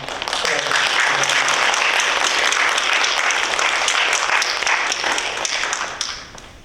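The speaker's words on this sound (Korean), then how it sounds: "우리 두 분 일어나셔서 인사해 주실 때에 환영의 박수로" A church congregation welcomes two visitors at a worship service with a full, dense round of applause that holds steady for several seconds, then tapers off quickly.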